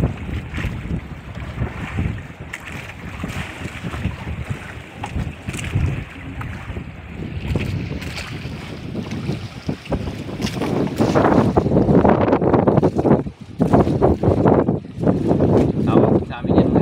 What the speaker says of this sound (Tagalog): lakas-lakas na ang hangin